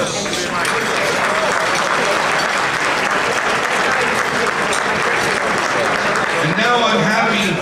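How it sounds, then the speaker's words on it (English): Sustained applause from a large audience at a state Republican Party dinner honoring the Albany and Washington Republican team, dense steady clapping filling the room for several seconds with some voices mixed in. "Please, a round of applause."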